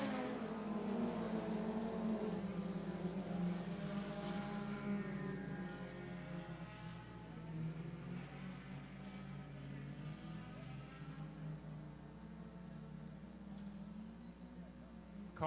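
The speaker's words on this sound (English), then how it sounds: "Cars starting to spread out around the track now" Late model race cars circling a speedway track, a loud steady engine roar with overlapping revving tones rising and falling as cars pass at a distance, under a continuous wash of crowd and track noise.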